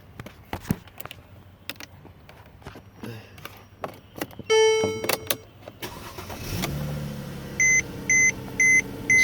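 A Mercedes C300 cranks and starts after a steering lock bypass: clicks and a few electronic beeps, then the engine catches and settles into a steady idle, followed by a series of evenly spaced chime beeps.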